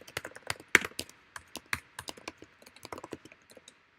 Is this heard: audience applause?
no